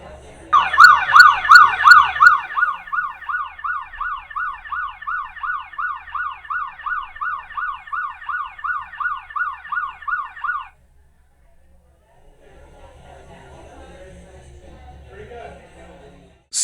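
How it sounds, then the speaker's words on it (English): An ambulance-style emergency siren wails loud and close in a rapid repeating up-down yelp for about ten seconds, then cuts off abruptly, leaving faint background murmur. "when the QC Ultras detected that siren"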